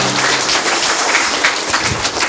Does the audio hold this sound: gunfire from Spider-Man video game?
no